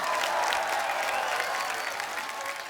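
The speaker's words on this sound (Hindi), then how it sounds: "जोरदार तालियां।" Studio audience applause at a Hindi television comedy show, a dense steady clapping that fills the whole stretch and eases off slightly toward the end, with no voices over it.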